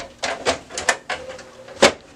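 Toner cartridge being reinstalled in an HP P4015 laser printer: a quick series of close plastic clicks, scrapes and knocks, ending in one sharper snap as it seats.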